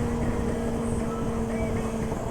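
A 1000cc motorcycle engine passing on a mountain road ride, a loud steady droning roar with a held tonal whine, close and continuous, over wind rush.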